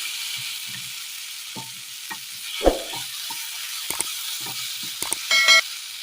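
Raw papaya, boiled and drained, stirred in a pot for a rice curry: scattered scraping and knocking strokes of a spoon against the pot over a steady steamy hiss, with a few louder clanks near the end.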